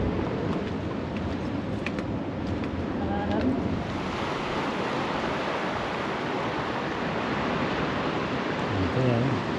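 Steady surf and wind on an open beach on a coastal drive between Augusta and Esperance, a continuous broad wash of waves with wind buffeting the microphone throughout.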